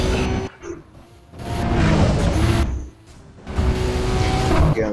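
Toyota MR2 in the Need For Speed World video game speeds through a corner, engine roaring in bursts with brief tire squeal between louder passes, no talk over it.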